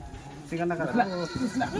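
A goat, pregnant and being held, bleats close by, a short wavering cry over quiet background noise.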